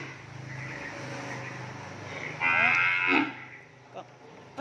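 Cattle at a cattle farm give a loud, drawn-out moo near the middle, over steady low background rumble, with a shorter lowing call following near the end.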